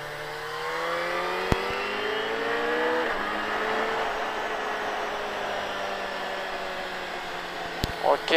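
A motorcycle accelerating hard on a racetrack, engine note rising in a long sweeping climb, with a sharp click or two and steady wind rush throughout.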